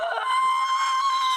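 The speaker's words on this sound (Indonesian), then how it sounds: "Dibarengi dengan suara teriakan ibu" A mother screams in the film A Quiet Place. One sustained, shrill cry lasts about a second and a half at steady loudness, heard alone.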